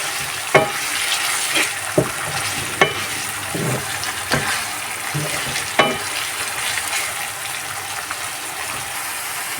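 Onions frying in oil with whole spices, bay leaves and cracked black and green cardamom, for a hotel-style chickpea curry: a steady sizzle with repeated sharp stirring scrapes and clicks of a spoon against the pan, close and alone.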